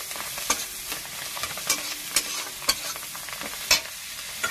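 Fish curry with coriander leaves is stirred in a sizzling pan, a steady frying hiss punctuated by about seven sharp scraping and clinking strokes of the spoon, close and without talking.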